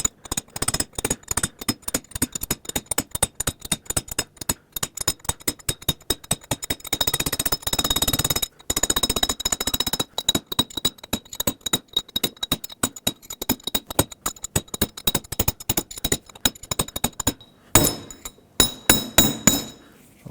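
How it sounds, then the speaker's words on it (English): A steel punch hammered against a rear inner wheel bearing race on a 2008-2010 Ford F-250 hub: rapid, sharp metallic taps in a steady rhythm, close and loud, with brief pauses and a final few slower strikes. "I heard a difference in the sound of the tapping. It sounds like it's transferring through the whole hub."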